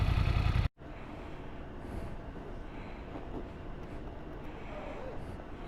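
BMW F900XR motorcycle (2020) ridden on a commute, a steady broadband engine and wind roar filling the clip after a brief cut, continuous and fairly close.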